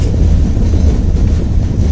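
A train travelling from Hosur toward Yeshwanthpur rumbles with a loud, steady low roar and wind buffeting, heard close from on board with no talking.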